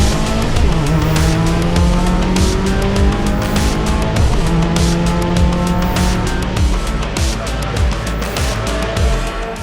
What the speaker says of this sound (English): First race of the weekend for the Virtue Mini Challenge Trophy category gets underway.